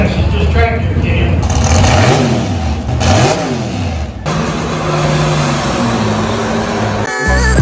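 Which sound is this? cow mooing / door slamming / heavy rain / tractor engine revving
tractor engine revving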